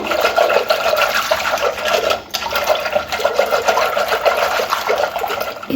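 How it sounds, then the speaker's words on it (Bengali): Yogurt and water are churned together into buttermilk (ghol), a loud, continuous close whirring and sloshing that breaks off briefly once before carrying on. "দিয়ে ঘোলটাকে এইভাবে ঘুরিয়ে নেব"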